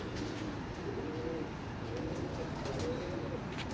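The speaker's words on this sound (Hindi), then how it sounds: "प्रवासी उड़ने वाले कबूतर दियां बगला इस नाम दी माशाल्लाह जी" Pigeons cooing softly, with low repeated coos rolling over a steady background hiss, fairly faint and without any clear talk.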